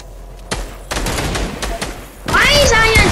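Gunfire in Fortnite during a multiplayer match, arriving as sharp shot bursts with a busier stretch of rapid fire and game effects near the end, while players talk over it.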